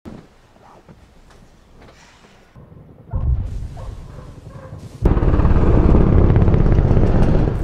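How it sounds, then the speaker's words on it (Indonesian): A very loud helicopter at night, building from quiet rustles and thumps into a dense, close rotor roar that stays steady to the end. "tiba-tiba Sarah terbangunkan suara helikopter yang sangat keras"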